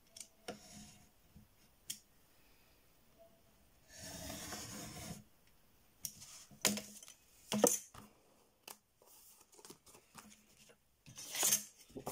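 Scissors cut paper for a scrapbook album page: a series of crisp, close snips and slicing rasps in irregular bursts, one longer sustained cut in the middle, without talk.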